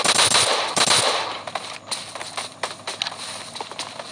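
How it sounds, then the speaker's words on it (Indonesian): Rapid bursts of sharp warning gunfire in PUBG Mobile on the Erangel map crackle in quick succession, loud at first then thinning into scattered, quieter shots. "Tembakan peringatan agar tidak mendekat."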